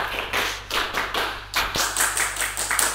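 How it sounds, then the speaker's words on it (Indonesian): Students at a junior high school scout training session perform the rhythmic tepuk pramuka clap, a close sequence of quick patterned hand claps in repeated bursts. "Tepuk pramuka."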